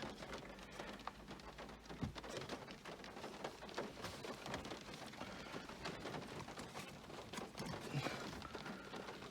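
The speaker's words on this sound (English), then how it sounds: "obviously just started to rain, so excuse the rain noise" Rain falls outdoors during a repair on a Seat Ibiza, a dense and steady patter of drops on surfaces that stays faint but continuous throughout, with a few louder taps.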